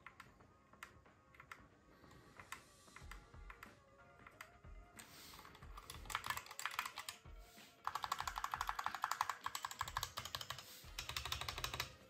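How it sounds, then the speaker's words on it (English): Typing on an aluminium mechanical gaming keyboard gives steady, close clicking keystrokes that grow louder and denser partway through, with no voices. "it just simply sounds amazing even while typing"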